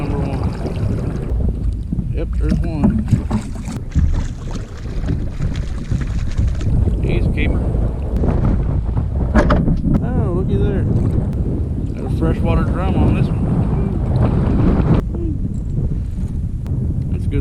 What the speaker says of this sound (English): this wind is just freaking awful